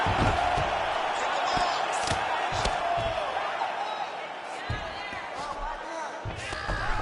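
Arena crowd at a UFC fight rumbles and roars in a dense wash of noise with sharp thuds and slaps, while someone talks over it throughout.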